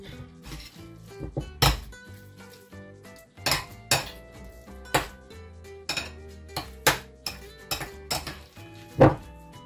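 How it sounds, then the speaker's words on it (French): Sweet potato is mashed into purée with a small hand utensil, giving repeated clinks and knocks of metal on the pot at an uneven rhythm, close and fairly loud, with no talking. "Une fois que j'ai réduit en purée toute la patate douce"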